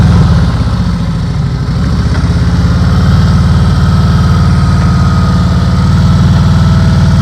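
A motorcycle engine runs loud and close at low speed during advanced slow-speed riding practice, holding a steady mid-pitched throb with the throttle kept up and a brief dip near the start.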